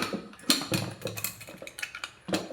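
Metal lid clatters onto a pot of potatoes set to boil, several sharp clinks and taps of cookware spread across the moment, fairly close, with no talking.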